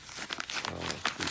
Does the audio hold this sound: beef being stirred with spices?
no